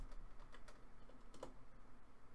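Light typing on a computer keyboard, scattered soft key taps with a couple of sharper clicks, faint and close against a quiet background hum.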